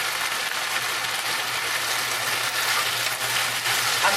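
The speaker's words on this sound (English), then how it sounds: "I know the sizzling, it must be incredibly loud." Zucchini sticks, peppers and other vegetables for beef lo mein sizzle loudly and continuously in a hot stir-fry pan, a dense steady hiss close to the microphone with no talking.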